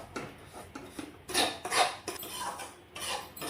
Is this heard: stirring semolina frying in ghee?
yes